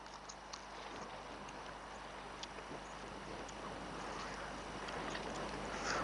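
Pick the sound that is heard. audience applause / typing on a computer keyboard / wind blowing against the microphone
wind blowing against the microphone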